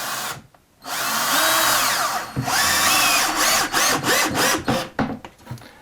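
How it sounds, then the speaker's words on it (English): Power drill driving a screw into a new kitchen cabinet during installation: a long, loud, close whir that changes in pitch, then a string of short stuttering pulses as the screw seats. "So let's get another screw in here."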